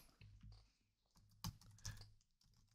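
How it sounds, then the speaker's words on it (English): Quiet keystrokes on a computer keyboard, a few scattered taps with a couple of sharper clicks, heard alone and close. "And then I'm just going to type in..."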